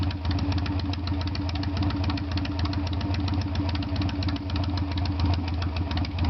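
A 1996 Harley-Davidson Sportster 883 with a rebuilt carburetor idles close by, a loud, steady, lumpy low rumble with rapid uneven pulsing beats continuing alone throughout.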